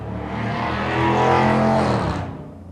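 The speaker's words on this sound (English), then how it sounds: "wait for the race cars to go by" Race cars pass by, their engine roar swelling to a peak and then fading away within a couple of seconds, heard alone without talk.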